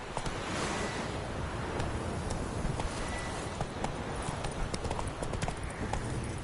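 Hoofbeats of Roach, the horse in The Witcher 3 video game, galloping in a rapid, steady clip-clop rhythm over a soft rushing wind-like background, moderately loud and continuous.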